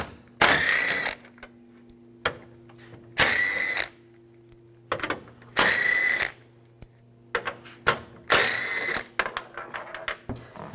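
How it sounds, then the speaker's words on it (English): A 10mm socket on a ratchet backs out screws on a 2007-2013 Chevrolet Silverado bumper molding. Four loud, close bursts of rapid clicking come at a regular rhythm, separated by short quiet gaps. "Use a 10mm socket."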